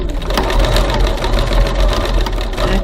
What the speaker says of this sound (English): Stitch a couple of times.